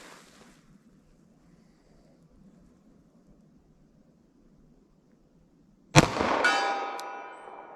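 A .45 ACP round striking a steel target gives one sharp, loud metallic clang that rings on and slowly fades, after several seconds of quiet low background rumble.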